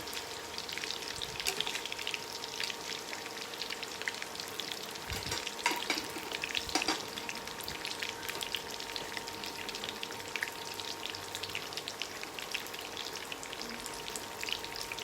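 Rojak ingredients fry in a pan with a steady, crackling sizzle of hot oil, faint and continuous with occasional sharper pops and stirring scrapes, and no voices.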